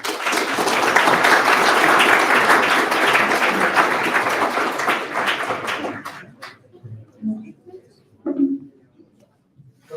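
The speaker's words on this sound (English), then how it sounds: "Applause." Applause from an audience at a tech meetup talk in Lithuania, dense and steady for about six seconds before thinning into a few scattered claps and small room noises.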